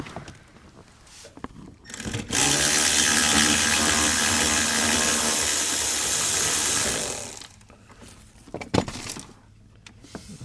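A ratchet wrench or power tool drives out 7 mm bolts on a 7.3 Powerstroke diesel engine, a loud continuous mechanical whir lasting several seconds, framed by quieter clicks and handling noises before and after.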